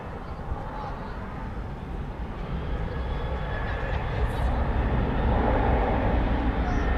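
An American Airlines Boeing 737-800 departs from DFW at night, its jet engine a broad, rising roar that swells steadily toward the end, with someone talking over it.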